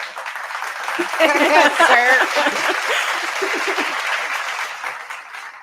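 Canned applause from an applause button, a steady bed of clapping with a little laughter, heard under a talking voice.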